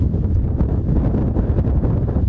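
Strong wind sweeps over the stormy Dubăsari reservoir, roaring and buffeting the microphone in a loud, constant low rumble with no speech.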